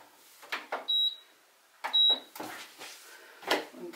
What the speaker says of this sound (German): Waschmaschine an.